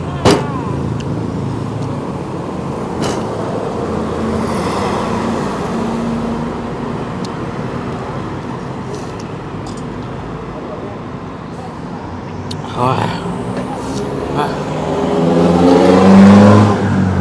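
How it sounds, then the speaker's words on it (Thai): Roadside traffic hums and roars beside a street food stall on Phetchaburi Road, cars passing close and loud in a constant wash, with one vehicle swelling nearer near the end; people talk over it. "เสียงดังเลยนะอยู่อยู่ข้างถนน"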